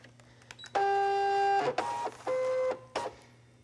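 A vinyl cutting machine feeds in a scanning mat for making iron-on shirt designs, giving sustained motorized whirring tones in two long runs with short clicks between, close and alone.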